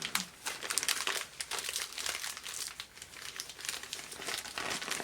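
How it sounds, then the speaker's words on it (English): A sheet of paper is crumpled and folded around a thumb, making a continuous close crackling and crinkling with dense bursts of rustle and no talking. "I'm gonna start by like folding or crumpling the paper around my thumb."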